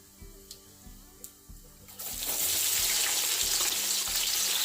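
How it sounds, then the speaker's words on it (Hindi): Onions tossed into a hot pan of oil with seeds and whole red chillies, bursting into a loud, steady sizzle after a few quiet clinks, the frying hiss continuing strongly to the end. "प्याज को हल्का सा फ्राई करेंगे"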